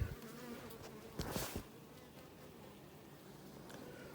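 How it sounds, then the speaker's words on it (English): Honey bees fan air in the bottom of a hive box on a hot mid-summer day, a steady close buzzing hum with a brief louder swell, and no voices. "they're probably moving the air around in the bottom of the box because of the heat"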